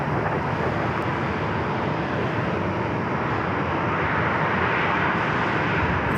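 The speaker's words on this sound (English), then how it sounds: "That is Southwest Airlines flight 4766 heading to Vegas, 737-700." Southwest Airlines Boeing 737-700 jet bound for Las Vegas at San Diego airport, giving a continuous, fairly loud engine roar that stays even and unbroken throughout.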